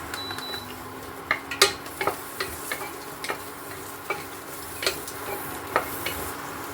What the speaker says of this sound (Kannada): ಈರುಳ್ಳಿ, ಬೆಳ್ಳುಳ್ಳಿ, ಕಮ್ಮಿ ಉರಿಲಿ ಇಟ್ಕೊಂಡು ಬಾಡಿಸ್ಬೇಕು ಚೆನ್ನಾಗಿ.